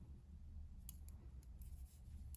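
Scissors snipping yarn during crochet work on an openwork summer blouse, with a few quick, soft cuts heard over a low, steady background rumble.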